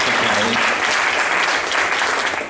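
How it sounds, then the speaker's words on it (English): An audience at a progressive community open-mic night applauds a speaker, a brief burst of dense, full clapping that holds steady and cuts off after a few seconds. "Can I ask a round of applause for Dr. Kiley?"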